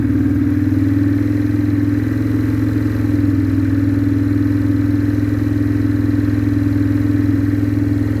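A 2004 Yamaha Kodiak 450 ATV engine idles after a cold start on choke, a steady, even low drone with a strong hum held close and loud throughout, with no talking.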